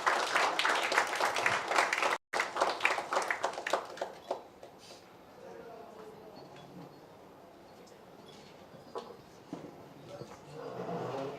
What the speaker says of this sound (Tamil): ஒரு பலத்த கைத்தட்டல் கொடுத்துடலாம்.